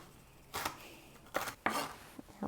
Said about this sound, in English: celery, onions, bell peppers. I'm gonna dice these up